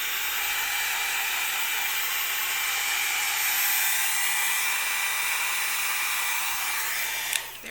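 A craft heat tool blows hot air steadily to dry a vintage-style wrap-around journal, giving a loud, continuous whooshing hiss that holds for several seconds before cutting off abruptly near the end.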